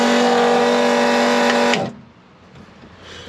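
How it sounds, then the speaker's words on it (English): An electric fuel pump runs up with the valve open on a full tank, making a loud, steady, even whine that cuts off abruptly partway through, leaving a faint hiss behind. "Let's run up the pump, valve open,"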